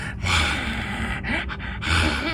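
A voice imitates a child's strained, gasping scream, with sharp rasping inhalations repeating a couple of times, loud and close.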